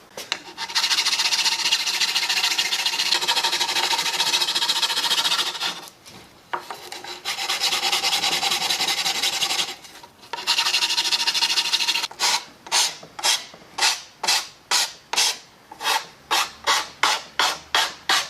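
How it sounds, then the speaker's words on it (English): Hand sanding on wood for a homemade Halloween countdown clock: long continuous rasping strokes, loud and close, give way to a quick run of short rhythmic back-and-forth scrubs, with no talking. "I think I'm going to do a little bit of sanding on the inside"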